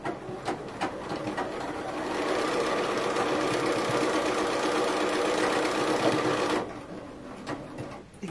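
A Bernina sewing machine top stitches around a pocket, its motor whirring in a loud, steady run of several seconds, framed by a few clicks and handling sounds before and after.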